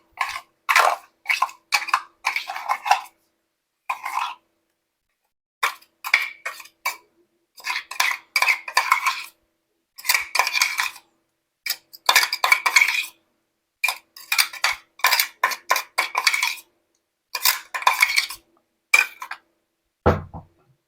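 A spoon mixes yogurt and spice paste into chicken in a curry pot, with rapid, repeated metallic scraping and clinking in rhythmic bursts separated by short pauses, and a dull knock at the very end.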